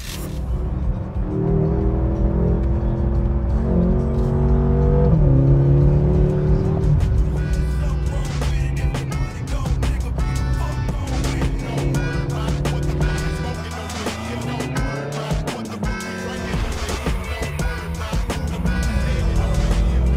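A BMW M6 convertible is driven hard on a track, its loud engine revving up and down continuously with gear changes and tire noise, with a voice speaking faintly beneath the engine roar.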